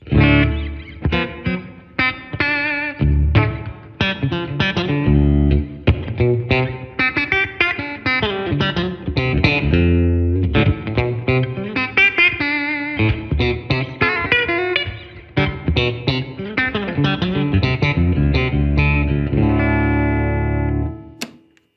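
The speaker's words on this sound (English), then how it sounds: "the clean, classic Fender clean Strat sound" A clean electric guitar, a Fender American Acoustasonic Stratocaster, plays a lively run of chords and single notes through an amp, bright and bouncy with a touch of spring reverb.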